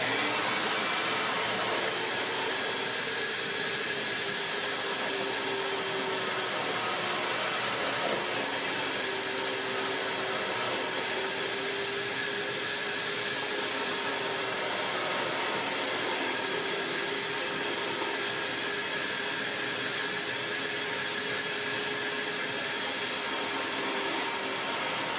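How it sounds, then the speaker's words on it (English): A Vacmaster VQ607SFD stainless steel wet dry vacuum runs steadily as it sucks water out of a nearly full 12-quart bucket, a loud, constant motor whine and airy rush with a slight wavering pitch throughout. "We'll see how long it takes to vacuum."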